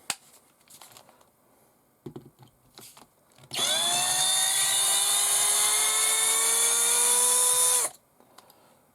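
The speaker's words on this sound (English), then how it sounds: "And then we'll take them out with the drill driver." A power drill driver removing screws from a Hobao Hyper VSE 1/8th-scale RC buggy chassis spins up and runs steadily at high pitch for about four seconds, then stops, with faint clicks and handling noise around it.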